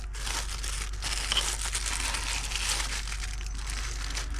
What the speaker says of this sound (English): So I'm just taking the bag that the light came in, kind of wrapping the screw.